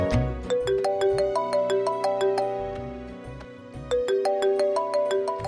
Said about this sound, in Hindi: अरे तुम्हारा बार बार फोन क्यों बजी जा रहा है?